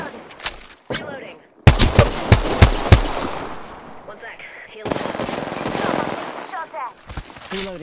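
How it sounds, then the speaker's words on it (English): Rapid automatic gunfire from the Apex Legends video game, loud close bursts of sharp cracks in quick rhythmic volleys, followed by sustained rattling fire and scattered game effects. "Taking shots."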